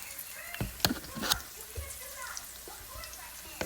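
Chopped onions sautéing in a pan for a lentil and spinach stew, a soft, steady sizzle with scattered pops and sharp taps of a utensil against the pan, quiet and close throughout.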